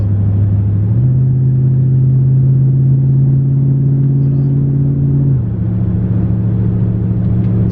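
A Dodge Charger Hellcat with catless midpipes cruises at about 70 in eco mode, giving a steady, loud, low droning rumble from inside the cabin with two small shifts in pitch and no talking.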